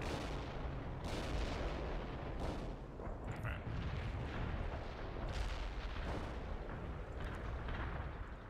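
Heavy artillery barrage in the video game World in Conflict: a continuous, loud rumble of booming impacts and blasts that swell and overlap throughout, with faint game chatter underneath.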